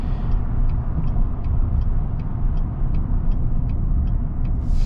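Steady low road rumble and drivetrain hum inside a 2022 GMC Sierra 1500 pickup truck cruising on the highway, continuous and fairly loud, with faint regular ticking above it and no talking.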